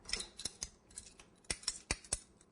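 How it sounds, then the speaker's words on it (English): Scissors snip through material during giant Valentine's Day balloon cake decorating, giving about eight crisp, close cuts in an irregular rhythm, with quiet pauses between them. "I'm going to cut this one shorter"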